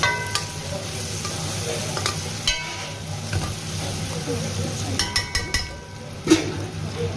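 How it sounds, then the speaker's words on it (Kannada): Curry leaves frying in a pan while an egg mash is cooked: a steady sizzle with frequent clinks and scrapes of a utensil against the pan, close and without talk. "ಸೊ ಇದಕ್ಕೆ ಸ್ವಲ್ಪ ಕರಿಬೇವನ್ನು ಕೂಡ ಹಾಕೊಳ್ತಾ ಇದ್ದೀನಿ."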